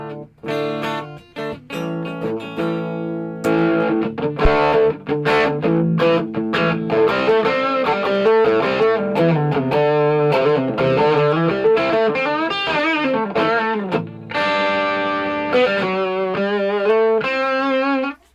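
Electric guitar played through a Rat distortion pedal, gritty and sustained, with chords and bending lead notes ringing loud and close for the full length.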